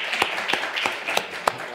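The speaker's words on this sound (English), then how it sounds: "a round of applause to you" A few scattered claps ring out for a panel moderator at an international EU conference, sparse and uneven sharp hand claps spaced about a third of a second apart rather than full applause.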